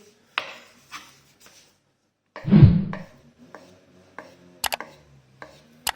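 Several sharp knife taps against a cutting board while thinly slicing potatoes, spaced irregularly, with a louder scraping burst in the middle; close and fairly quiet, no voices.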